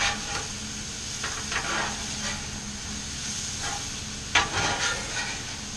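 Chicken, salmon, potatoes and vegetables sizzle in a pan, with a steady hiss and occasional scraping stirs, one sharper clatter near the end, and no talking.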